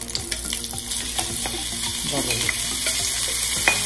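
Meat with its marinade frying in a pan, a steady close sizzle with clinks and stirring scrapes throughout.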